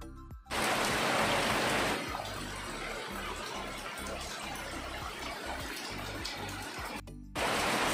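Steady rain falling outdoors on a morning, a dense even patter with brief breaks where the sound cuts out, moderately loud and continuous, no voices.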